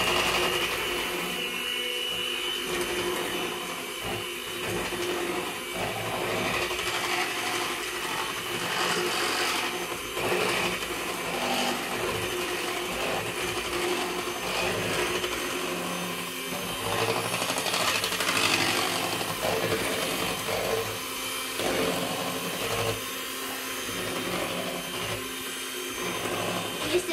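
A continuous loud electric motor whirring and grinding steadily, like a hand mixer working through thick dough, with no talking.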